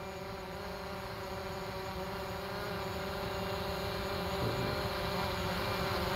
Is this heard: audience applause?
no